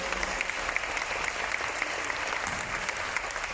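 Keynote audience at a planner festival gives Lottie, founder of Mama Makes, a round of applause: steady, moderately quiet clapping from a crowd, evenly sustained with scattered sharper claps.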